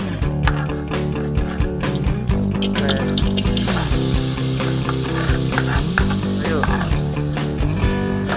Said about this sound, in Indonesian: Panaskan minyak, tumis bumbu hingga wangi.